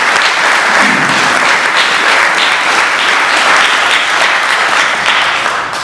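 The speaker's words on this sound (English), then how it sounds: "one quick last round of applause for the school allowing us to be here today" Audience at a school venue before a political candidates' debate gives a sustained, dense round of applause, loud and even throughout, with no speech over it.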